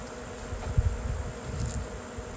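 Bees buzz during an open-air hive removal, a soft, steady low hum with faint fluttering pulses, fairly quiet and unbroken, with no voices.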